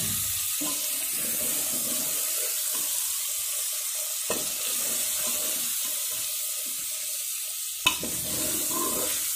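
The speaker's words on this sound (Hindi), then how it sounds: "इसको बिल्कुल अच्छे से तेल के अंदर मिक्स कर दें, बिल्कुल अच्छे से फ्राई कर लेना है मटन को।" Mutton frying in hot oil while being stirred, a steady loud sizzle with occasional scrapes and knocks of the spoon against the pan, heard alone without talk.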